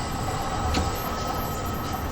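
A London Underground train in Train Sim World 2 rumbles steadily with a continuous low roar and rushing noise, a brief squeal midway, heard alone without talk.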